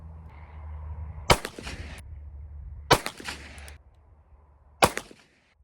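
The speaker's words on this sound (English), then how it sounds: "Now we're going to take 3 shots with the Federal 115 grain FMJ." Three Taurus TH9 pistol shots with Federal 115 grain FMJ rounds crack out at an outdoor range, each sharp and loud with a brief echo, spaced a second or two apart over a low background hum.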